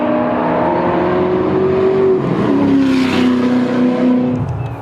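Race cars lapping at a high-performance driving experience track day at Virginia International Raceway, a loud, steady engine drone whose pitch glides and shifts as a car passes, with no voices.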